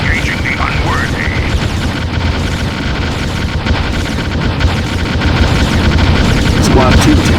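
Gunfire and booming artillery in the Ground Control strategy game, with steady rumbling combat going on throughout. Radio-style voice lines play over the shooting.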